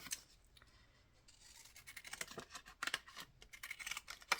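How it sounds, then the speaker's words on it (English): Pinking shears snip close by in a quick, irregular run of crisp, scratchy cuts that grow denser and louder toward the end, with no voices. "So you can use my pinking shears."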